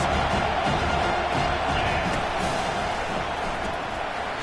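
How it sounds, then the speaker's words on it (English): A large college football stadium crowd roars continuously, a dense, loud wall of cheering and shouting that holds steady throughout. "Listen to this crowd just shaking the girders of this place, trying to help their defense."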